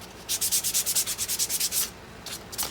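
Rapid back-and-forth sanding strokes on a glued wooden bandsaw box, about a dozen rhythmic rasps close up, a short pause, then a few more strokes.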